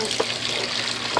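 Laundry powder is stirred into water by hand, giving a brief, close swishing and sloshing with a couple of small splashy accents.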